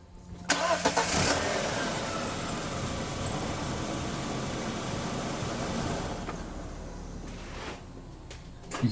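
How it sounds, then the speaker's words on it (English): A VW Passat engine starts and settles into a steady idle after a mass airflow sensor replacement, heard close with a constant even hum and no voices, before a clunk near the end. "You can see that the engine is running fine now that I have replaced the sensor."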